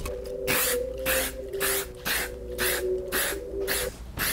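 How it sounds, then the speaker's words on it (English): Eight bursts of hissing aerosol spray paint onto a custom Air Jordan 3 sneaker in a steady rhythm, each about a third of a second, close and fairly loud, with a low hum underneath. "Hey, you're supposed to spray that outside, bro."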